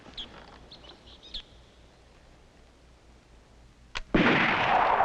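A single sharp gunshot from a fisherman's gun rings out in an outdoor rural setting, preceded by faint bird chirps and followed by a loud sustained wash of noise.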